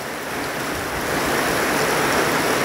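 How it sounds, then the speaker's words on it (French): Water flows steadily outdoors, naturally irrigating plants, with a continuous broad rushing wash that swells slightly and stays close and fairly loud. "regardez l'eau. Ça va aller arroser, ça va arroser les plantes."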